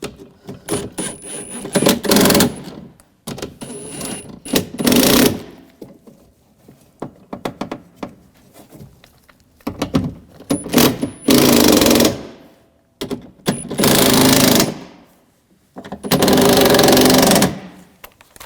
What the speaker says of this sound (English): I'm going to tighten these down.